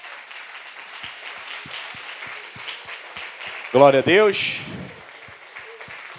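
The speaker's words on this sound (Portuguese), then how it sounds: "E pode aplaudir o Senhor bem forte." A church congregation at a Wednesday service claps in a steady rhythm, moderately loud, while a pastor speaks a short phrase over it.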